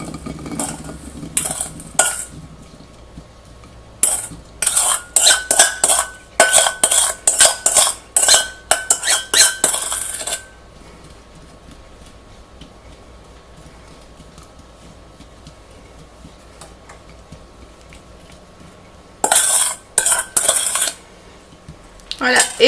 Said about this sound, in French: donc je vais verser mes cerises